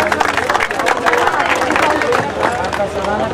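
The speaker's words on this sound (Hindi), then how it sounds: "तालियां बजा के स्वागत करें।" An audience at a religious scripture book-release ceremony claps and murmurs in a dense, close burst of applause with crowd babble mixed in.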